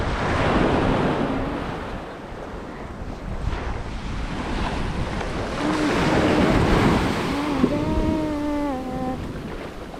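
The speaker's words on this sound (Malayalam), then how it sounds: "ഇതൊക്കെ നല്ല തിരയുള്ള സ്ഥലമാണ്" Ocean waves break and wash continuously on Mararikulam beach, a loud close roar of surf with heavy wind buffeting the microphone and a faint tonal hum near the end, with no talking.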